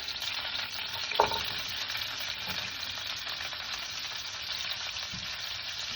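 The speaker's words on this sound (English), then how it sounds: "I'm going to add the cabbage, which I've washed, and I'm going to place it into the pan here" Washed cabbage sizzles steadily in hot bacon fat in a pan, a continuous close frying hiss with one brief louder clatter near the start and a faint knock later.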